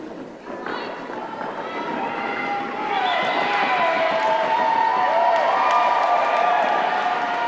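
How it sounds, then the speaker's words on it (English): A large crowd roars and cheers continuously, the noise swelling louder and staying strong, with scattered whoops and shouts rising above it. "listen to that crowd"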